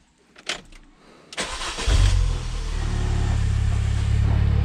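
Mini Cooper R50 engine cranks briefly and catches after an oil service, then settles into a steady, loud idle that carries on to the end, with no one speaking.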